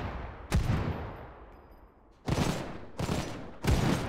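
Gunfire in the Final Fantasy VII The First Soldier battle royale game, four separate loud bursts of shots spaced unevenly, each with a short rumbling tail.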